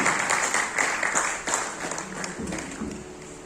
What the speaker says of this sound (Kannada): ಮತ್ತೊಮ್ಮೆ ನಿಮ್ಮೆಲ್ಲರ ಆಶೀರ್ವಾದ ಪೂರ್ವಕ ಚಪ್ಪಾಳೆಯನ್ನು ಬಯಸುತ್ತಾ